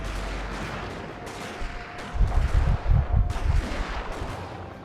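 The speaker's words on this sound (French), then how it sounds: "Allez, les premiers tirs" Gunfire rings out in a Total War: Shogun 2 battle. Distant rifle shots and booming volleys come in an uneven cluster over a steady battlefield rumble, with no talking.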